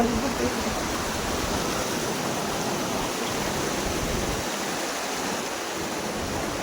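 Loud, steady rushing water roars without pause, a dense broadband wash like a nearby waterfall, at Sautada.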